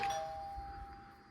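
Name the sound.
doorbell ringing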